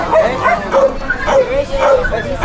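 Rescued puppy close by, giving repeated high yips and thin whimpers in an uneven rhythm, with some light background voices.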